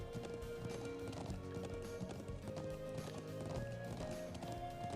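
Horse hooves gallop in a fast, even clip-clop through the video game, close and steady for five seconds, layered over continuous game music.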